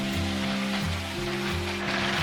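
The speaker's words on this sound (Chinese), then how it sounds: "我们就可以下入排骨，然后保持中火煎" Pork ribs pan-fry in lard over medium heat, giving a continuous crackling sizzle beneath a steady low mechanical hum.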